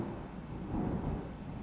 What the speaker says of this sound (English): Sorry, got a bit of a thunderstorm going on.